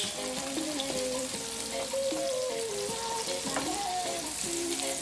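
Seasoning fries loudly in a pan for gravy sauce for Jamaican-style fried chicken, a dense continuous sizzle with faint stirring scrapes running through it.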